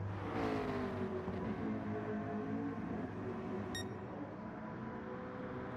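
A race car in a racing video game holds a drift with a steady, strained engine whine and tire hiss, fairly faint and continuous, with a brief sharp electronic ping near the end.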